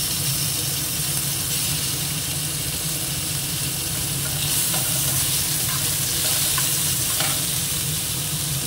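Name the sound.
frying chopped onion and tomato in a pan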